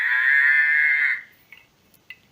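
A novelty coffee mug lets out one long, loud, close cow moo when it is moved, then the sound stops and only a couple of faint clicks follow.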